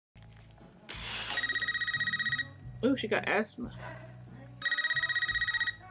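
A house phone rings in the 2022 horror film Scream, a loud repeated electronic trill in two bursts at the start and end, with people talking between and over the rings.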